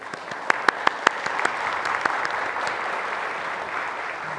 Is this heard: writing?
no